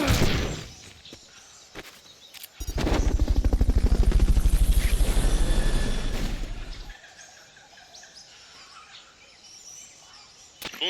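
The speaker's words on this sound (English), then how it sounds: "Fulton recovery subject confirmed onboard helicopter." Helicopter in the video game Metal Gear Solid: Peace Walker, a loud steady rotor chop rising abruptly for about four seconds mid-clip, then cutting out to quieter ambient game sounds.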